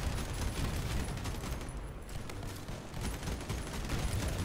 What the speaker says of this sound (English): Dude, I just love the auto cannon. It's like bang, bang, bang, bang, bang.